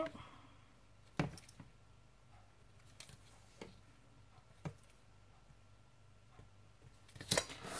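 Cardstock for a scrapbook card is cut in a few sharp, separate snips, close and crisp, spaced several seconds apart in an otherwise quiet room.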